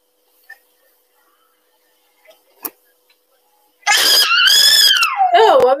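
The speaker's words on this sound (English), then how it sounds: "Don't scream. Don't cry." A child screams and cries loudly and close up after a few seconds of near silence with faint clicks, the wailing continuous and rising and falling in pitch.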